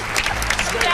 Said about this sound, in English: We get a real round of applause for that.